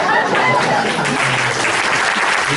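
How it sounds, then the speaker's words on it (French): A comedy club audience claps steadily and loudly throughout, a dense wash of applause with some crowd noise and a voice underneath. "T'es content, hein, les gens t'applaudissent."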